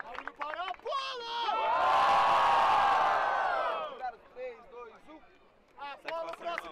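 A crowd at a rap battle bursts into loud cheering and whooping, a swelling roar of voices lasting a couple of seconds, with an announcer's shouted talk before and after it.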